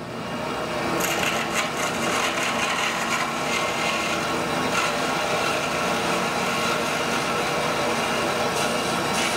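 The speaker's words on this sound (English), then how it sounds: "All ready for the bandsaw." A bandsaw cuts through a cast resin zero clearance insert, giving a steady close, loud whining and rasping cut that holds throughout with brief gritty bursts near the start, no talking.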